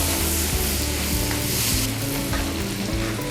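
Garlic and onion fry in butter with a little oil in a hot pan, giving a loud, steady, close sizzle with occasional stirring clatter and no talking.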